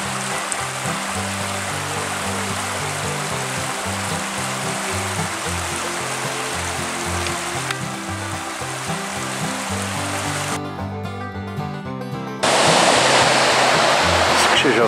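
The Bystrzyca Dusznicka river between Polanica-Zdrój and Szczytna rushing steadily, a loud broadband roar of flowing water with a music-like tonal layer underneath and a brief shift in texture near the end.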